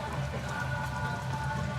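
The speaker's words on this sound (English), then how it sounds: "First practice session around Zwartkops, and it's raining." Steady rain falls on a surface at Zwartkops race track during a first practice session, a continuous close patter with a low hum running underneath.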